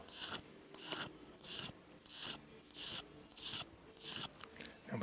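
A knife blade being stropped against a strop, with about nine rhythmic rasping strokes at a steady pace, close and quiet, each pass a short scraping rub with pauses between.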